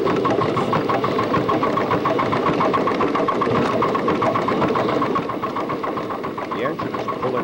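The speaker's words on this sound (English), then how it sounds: "The engine is pulling off the ash pit." A live steam locomotive pulling off the ash pit: a steady, heavy rumble with rhythmic chuffing and mechanical clatter runs throughout, close by, with a voice talking over it.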